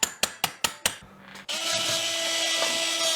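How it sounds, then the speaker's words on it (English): Surgical hammers and a drill in an operating room during bone-lengthening surgery on the fibula: five sharp, evenly spaced metallic hammer strikes, then a steady loud high-pitched whine as the drill starts, with no talking. "Am I hearing hammers and drills being used?"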